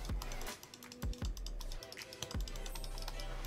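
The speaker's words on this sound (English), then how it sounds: "Clicks sound different on both." Mouse buttons on a Razer Basilisk V2 and a Razer DeathAdder V2 clicking several times, sharp close-up clicks in irregular bursts over a faint low hum.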